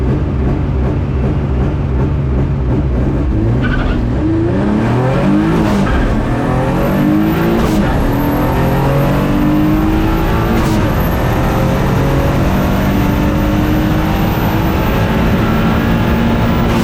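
A car boosted to 25 PSI launches down a drag strip, with a loud, close engine roar climbing steadily through the gears and continuing to build until the end.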